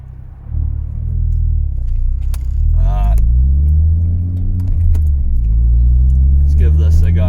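Turbocharged Ford XR5 four-wheel-drive car pulling hard through the gears from second into third at full throttle, a loud, close engine drone rising and falling in pitch with each shift, with brief speech over it.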